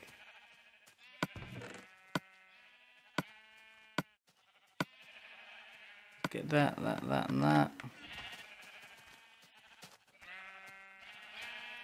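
Sheep in the video game Minecraft on Xbox 360 bleat in short, wavering calls, several times across the scene. Sharp clicks mark some moments, and someone talks over part of it.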